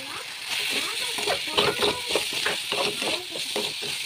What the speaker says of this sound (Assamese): এতিয়া মই ইয়াতে বইল কৰি ৰখা নুডলছখিনি দি দিলোঁ